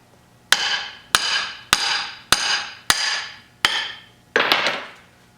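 Hammer blows driving a U-joint cap out of a 4x4 front axle shaft: seven sharp metallic strikes at a steady, roughly once-per-second rhythm, each ringing briefly, close and loud with no talk.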